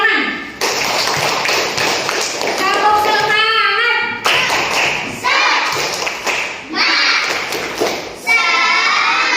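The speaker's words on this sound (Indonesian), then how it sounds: "Aplaus untuk kelas 5A, tepuk" A room of fifth-grade children claps and taps rhythmically together in a classroom, loud and close, while young voices shout and chant over the clapping.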